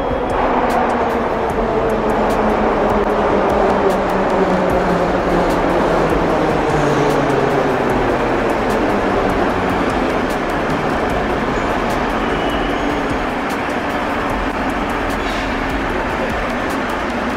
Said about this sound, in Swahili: Na treni zinakuja kama hivi